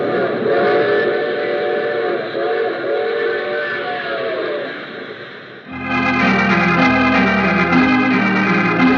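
Rhythmic rumble and clatter of a moving train in an old-time radio thriller, a steady mid-level roll that abruptly shifts into a louder, denser section with sustained whistle-like tones layered over the running wheels.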